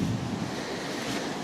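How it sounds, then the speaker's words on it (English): Wind blows on a coastal walk, a steady low rushing roar with continuous buffeting against the microphone and no voices. "It's windy."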